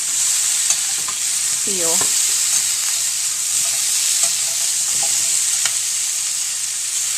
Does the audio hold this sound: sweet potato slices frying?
yes